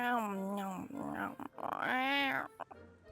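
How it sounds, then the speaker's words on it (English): Kirara, a cat character in the Genshin Impact video game, makes playful meowing cat noises, voiced in drawn-out, pitch-bending calls that sound close and clear. "I love her cat noises too."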